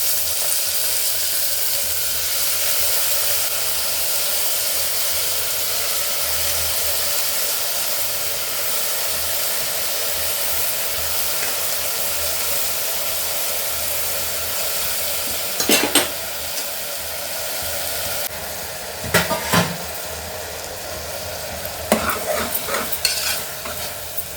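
Sprouted horse gram tossed into hot oil tempering sizzles and hisses steadily in a pan, with a few sharp stirring scrapes and clinks toward the end; no one speaks.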